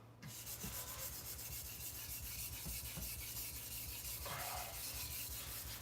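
Knife drawn across a sharpening stone in steady, close rasping strokes, a continuous scraping rub that grows slightly louder toward the end, with nobody talking.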